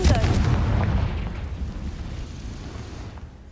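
Confringo spell explosion in the video game Hogwarts Legacy: one heavy booming blast at the start, decaying into a long rumbling tail that fades over a few seconds.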